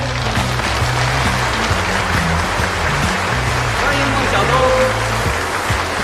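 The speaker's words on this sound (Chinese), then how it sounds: "掌声欢迎！" An audience gives steady, dense applause welcoming a contestant at a tournament between two Chinese players; the clapping holds evenly throughout while an announcer speaks over it.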